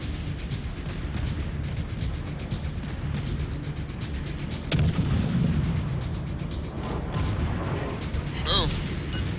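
Naval gun mounts fire rounds during a video game sea battle, a dense continuous rumble with a sharp blast midway. A voice talks over it.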